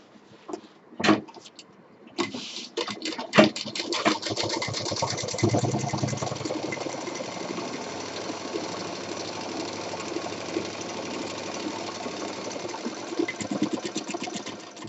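A sewing machine stitches a simple cloth bag. A few sharp clicks and thumps come first, then a steady, close, continuous whirring run of stitching carries on to the end.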